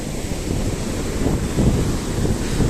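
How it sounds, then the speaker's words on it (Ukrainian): Water churns at the edge of a canal in Galway, a loud, steady rushing roar mixed with wind buffeting the microphone, heard close and without speech. "тут бурлить вода, аж страшно підходити до краю"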